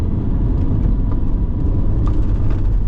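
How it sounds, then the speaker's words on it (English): A diesel engine in a Kombi van strains under hard acceleration on a race track, giving a steady, loud, low droning rumble with road noise throughout and no talking. "These diesel engines quickly gets out of steam."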